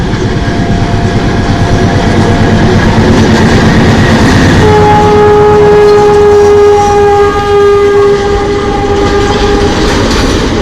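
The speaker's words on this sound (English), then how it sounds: "we waited for the train for some time to come to take some pictures of the train on the bridge" A train rumbles loudly and close across the Nine Arch Bridge in Ella, Sri Lanka, wheels clattering continuously while its horn sounds long sustained tones midway through.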